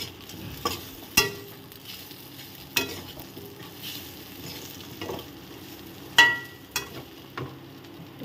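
Raw banana curry (kacha kolar dalna) stirred in a pan with ghee: a steady sizzle of frying under spoon scrapes, with sharp clanks against the pan every couple of seconds.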